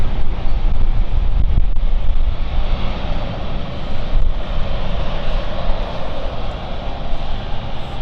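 A German-registered airplane taxiing at London City Airport gives a steady, broad engine roar that holds at a constant loud level throughout, with some wind noise across the microphone.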